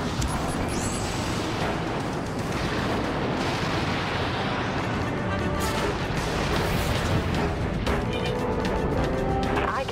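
Heavy artillery fire from a destroyer in the naval combat game Dreadnought rumbles as a dense, continuous wash of booming blasts and crashing impacts, loud and close, with bursts breaking through the din.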